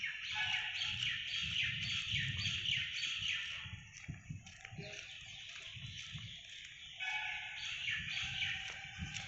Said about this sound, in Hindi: उधर एक मधुर कोयल की आवाज़ आ रही है।